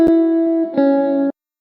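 Lo-fi electric guitar run through the Analog Obsession Cabin plugin for a sleepy FL Studio beat: a short plucked chord with a sharp pick attack, sustaining, then a second strum ringing warm and slightly distorted before cutting off abruptly, alone without talk.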